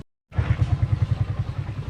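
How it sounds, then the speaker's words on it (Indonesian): A motorcycle engine starts after a moment of silence and chugs along in a fast, steady low pulse. It sounds close and moderately loud. "Motor."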